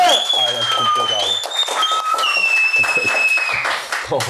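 Applause at a rap show, with clapping running under loud talk and whistle-like tones from the studio crowd.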